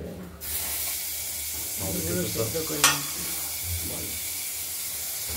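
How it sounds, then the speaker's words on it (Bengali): Boiled potatoes frying in hot oil with a tempering of bay leaf, dried red chili and cumin, a steady sizzle and hiss with occasional stirring knocks and a brief sharp spit. "আলুগুলো আমরা আগেই সেদ্ধ করে নিয়েছি, যার জন্য আলুগুলোকে একটু অল্প ভাজলেই হবে।"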